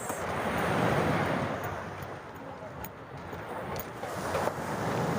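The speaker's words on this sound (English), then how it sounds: "So welcome to Mistral Beach in Marbella. So enjoy the view" Waves wash onto Mistral Beach in Marbella, a broad, loud surf roar swelling and easing, with wind buffeting the microphone throughout.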